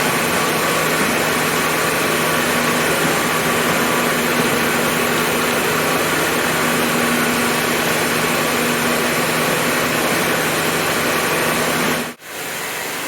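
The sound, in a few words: floor machine running while removing grout haze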